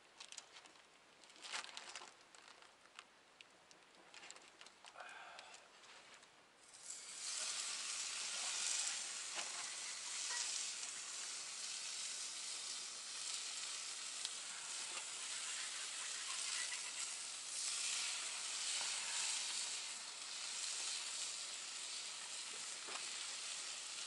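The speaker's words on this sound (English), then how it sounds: "Doing a little cast iron cooking over the fire here." Food sizzles steadily in a cast iron pan set over a campfire outdoors, a soft patter at first that swells into a loud, continuous frying hiss for most of the stretch, with faint birdsong around it.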